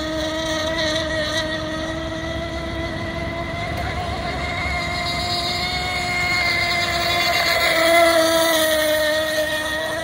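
A radio-controlled hydroplane's small engine, running slightly rich, buzzes steadily at a high pitch, its whine rising and falling slightly as it runs across the water.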